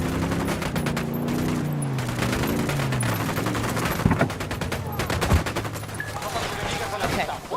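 Gunfire in the video game Ghost Recon Wildlands, with rapid bursts of automatic shots and scattered single cracks under continuous voices and game sound.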